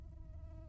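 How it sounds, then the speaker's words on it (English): A bee buzzing in The Witcher 3, a short, faint, steady drone with a tonal hum that holds evenly for under a second. "There's a bee. Can't tell me there isn't a bee."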